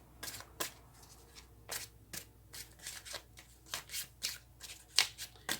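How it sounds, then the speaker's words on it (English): Tarot cards are shuffled close up in a steady series of short, crisp riffles and taps, each about half a second apart, with no talking. "Cards are not wanting to shuffle."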